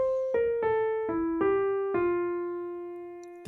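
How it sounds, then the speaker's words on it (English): A descending scale run over F dominant 7 steps downward in six clear sustained notes, closing with an enclosure around the root F. The final tone rings out before a faint click, with no voices. "Followed by descending scale motion on the F dominant 7,"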